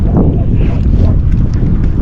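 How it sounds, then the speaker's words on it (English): Strong seaside wind buffets the microphone in a constant loud roar of low rumble and gusting noise, with no voices. "That wind's a bit stronger than what they forecast so far."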